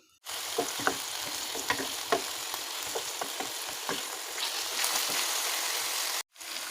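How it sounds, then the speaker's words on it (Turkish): Loud, steady sizzling of chicken drumsticks frying in hot oil in a pot, with occasional pops and crackles, then a brief pause near the end. "butlarımızı şöyle sağını solunu çevirerek kızartalım"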